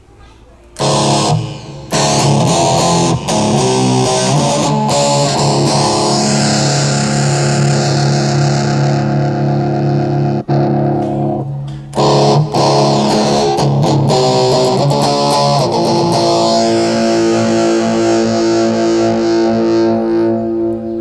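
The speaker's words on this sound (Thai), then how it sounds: "เราอยากจะได้เสียงแตกเอาไว้สักตัวหนึ่งประมาณนั้น" Distorted electric guitar runs through a TANK-G effects unit, with sustained, heavily overdriven chords ringing loud and continuous, a brief gap near the start and another dip around the middle.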